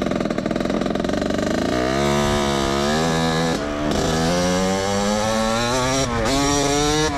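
A motorized bicycle engine chatters at a fast idle, then revs repeatedly with rising and falling buzzy pitch, close and loud, like a small two-stroke.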